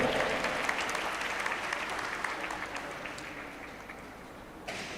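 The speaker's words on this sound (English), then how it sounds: "A big round of applause, everyone." An audience at a school event gives a warm, continuous round of applause for about five seconds, slowly tapering off near the end.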